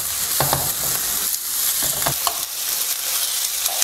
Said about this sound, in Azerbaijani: Başlayıb bunları yaxşı-yaxşı qarışdırmağa